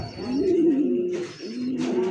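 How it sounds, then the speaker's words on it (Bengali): A pair of Pakistani Danish pigeons coo in low, throaty rolling calls, one long phrase followed by a second after a brief pause, close by with light background noise. "চমৎকার আরো এক জোড়া পাকিস্তানি ড্যানিশ কবুতর, যে ডাকা ডাকতিছে দেখছেন"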